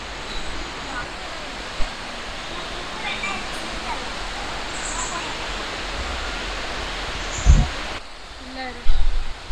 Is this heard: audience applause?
no